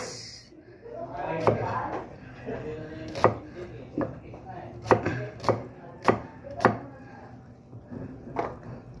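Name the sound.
chopping onion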